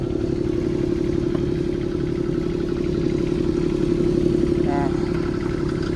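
The diesel engine of a small mini excavator at a large equipment auction runs in a steady, loud, close-up drone with faint mechanical clatter while the boom is swung.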